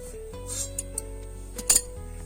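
A metal kadai is set down on a stove for frying luchi, producing a few faint clinks and a sharper metallic clatter near the end over a steady low hum, close by and without speech.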